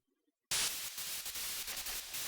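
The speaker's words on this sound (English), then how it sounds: "White noise on the screen will signal the start of battle." Loud burst of white-noise static signalling the start of a battle in the video game .hack IMOQ, cutting in abruptly after near silence and holding steady as a dense hiss.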